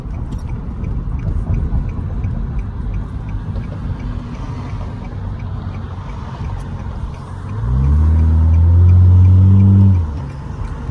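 A straight-piped Nissan Altima in New York traffic revs hard: a loud, deep, throaty exhaust roar swells for a few seconds over a steady rumble of road and engine noise.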